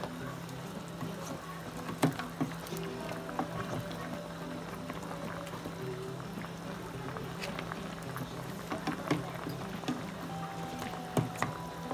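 Spinach leaves and meat being stirred together in a pot, a continuous bubbling simmer with intermittent scrapes and knocks of a spoon against the pot, close and without talk.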